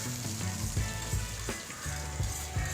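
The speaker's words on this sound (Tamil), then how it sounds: "2 நார்மல் சைஸ் வெங்காயம் இந்த மாதிரி பொடி பொடியாக கட் பண்ணி சேர்த்துக்கிறேன்." Finely chopped onions hit hot oil with mustard seeds and curry leaves for a spicy curry. A close, crackling sizzle carries through, with a few soft clinks and pops and no voices.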